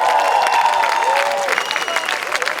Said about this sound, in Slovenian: en aplavz še enkrat za naše šlagerce!